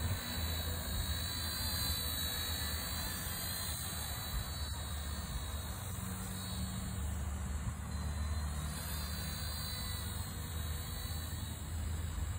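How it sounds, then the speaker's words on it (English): An Eachine E119 RC helicopter hovers outdoors, its small motor and rotor giving a constant high-pitched whine over a steady whooshing hum that stays level throughout. "We're gonna take off from right here. Nice little hover here."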